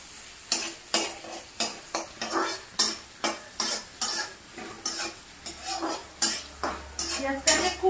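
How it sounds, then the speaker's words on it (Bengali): Onions fry in mustard oil in a pan for a fish curry, with a constant sizzle under rhythmic, evenly spaced scrapes of a spatula stirring about once a second. No one speaks. "এবার পেঁয়াজটাকে একটু ভেজে নেব"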